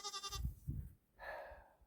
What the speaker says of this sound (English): I'm getting attitude from goats.